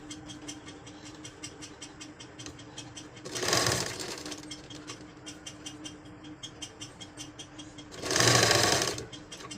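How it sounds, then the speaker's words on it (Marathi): A sewing machine double-stitching a blouse runs close and steady with a fast, even rhythm, broken by two louder, brighter bursts of speed. "मी डबल शिलाई मारून घेतलेली बघा"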